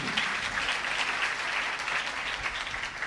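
A church congregation claps together, a dense, continuous patter of many hands filling the hall at moderate volume, with no voices standing out.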